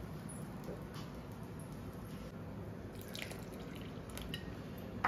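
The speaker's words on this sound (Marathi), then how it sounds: "त्याच्यामध्ये आपण थोडंसं पाणी ऍड करूया." A small splash of water trickles and drips into thick uttapam batter in a kitchen, faint and close, a few soft liquid drops with no talk.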